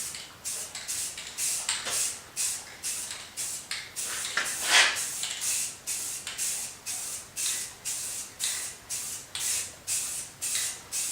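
Spray paint hisses in a steady series of short, close bursts onto an industrial-style DIY coffee table with rivets and stones, each spurt followed by a brief pause, and no one speaking.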